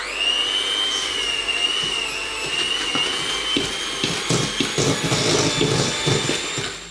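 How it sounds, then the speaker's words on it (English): A small electric hand whisk beats a dark brown sugar mixture for a Christmas cake, giving a steady high motor whine with rattling, scraping bursts from the beaters in the bowl, close and continuous with no talking. "And I'm going to get the little electric whisk out, so a bit noisy now."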